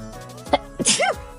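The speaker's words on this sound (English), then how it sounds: "I feel like I have to sneeze." A single sneeze bursts out after a brief wind-up breath, near and fairly loud, over a quiet outdoor background with gnats around.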